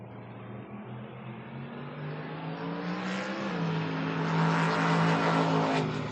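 Drag racing cars, a Mustang and a Camaro, at the FRBR Independence Showdown, a loud engine roar building and rising in pitch as the cars accelerate down the strip.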